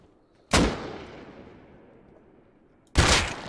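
Two loud, close gunshots from the survival game Rust, each a sharp crack with a long decaying echo, spaced a few seconds apart with no talking.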